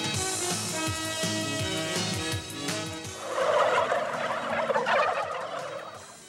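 Turkeys gobble in repeated bursty calls, several birds overlapping, with a denser, louder flock chorus swelling in the second half; no talking.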